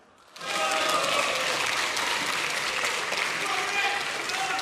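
Applause fills a session of the Korean National Assembly during a divided sitting, one side clapping while the other shouts. It rises suddenly after a brief quiet start, then holds as a steady, dense wash with some voices mixed in.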